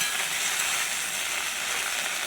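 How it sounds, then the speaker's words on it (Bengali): Okra frying in hot oil in a very hot wok gives off a steady, dense hiss that holds evenly throughout, close and unbroken, with no voices. "তারপর ভেন্ডিগুলো দিয়ে দিলাম। আস্তে আস্তে করে তেল ফুটে আসছিলো"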